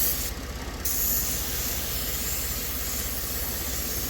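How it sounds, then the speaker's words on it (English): A steady, loud hiss of aerosol brake cleaner spray runs continuously for several seconds, with a brief change in tone near the start. "I'm going to spray it with some brake clean."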